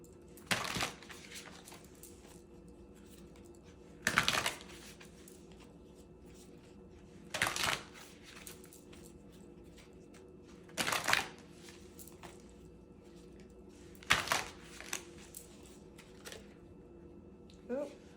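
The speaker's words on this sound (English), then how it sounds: "Let me shuffle the cards and get a little bit more information" Tarot cards being shuffled in several short riffling bursts spaced a few seconds apart, over a low steady background hum.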